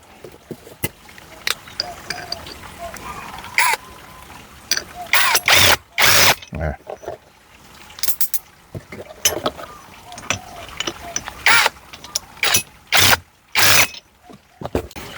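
Plastic part being twisted onto a lightweight household grass trimmer during unboxing, giving close, irregular ratcheting clicks and snaps in short bursts over a quiet background.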